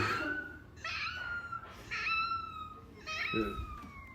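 A person imitates a cat, giving three rising-and-falling meows in a row, fairly close.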